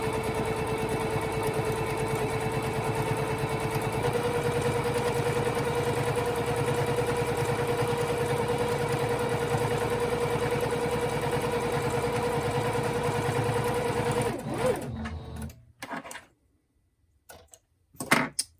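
A sewing machine stitches cotton fabric for a tarot card bag, running as a steady mechanical hum for about fifteen seconds before it stops, with a few soft clicks afterward.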